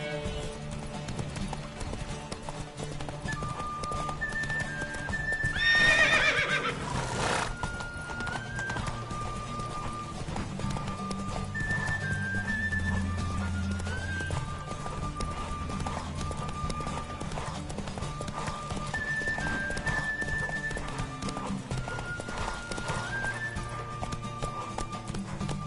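Roach, Geralt's horse in The Witcher video game, gallops with a steady clip-clop of hooves over game music, a loud neigh bursting out near the start.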